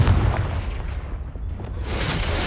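A Confringo fire spell blast in Hogwarts Legacy, a loud booming burst with a rumbling low-end tail that fills the whole clip, no voices over it.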